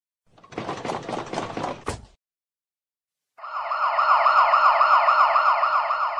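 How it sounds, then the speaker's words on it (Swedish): An ambulance siren in a children's app wails in a fast, steady warble, loud and alone, following a brief rattling burst and a pause of silence. "Ambulans."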